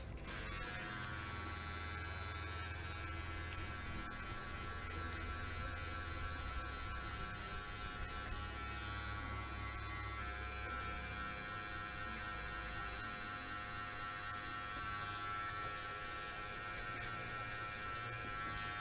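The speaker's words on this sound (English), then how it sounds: "pop the 3 guard onto the clipper, open the lever, and let's see what it does" An electric hair clipper fitted with a 3 guard runs through hair during a mohawk self-haircut, giving a steady, close, continuous buzz for the whole stretch with no talking.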